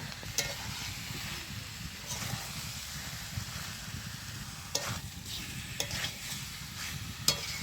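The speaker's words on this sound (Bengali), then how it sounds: "ভেজে রাখা আলু আর পটলটা দিয়ে দিচ্ছি।" Fried potatoes and pointed gourd are stirred into hot oily spice paste in a pan, giving a soft continuous sizzle and scraping stir strokes, with a few sharper utensil clinks toward the end; quiet and close, no talking.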